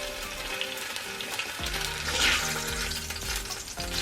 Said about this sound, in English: Let's cook bacon first.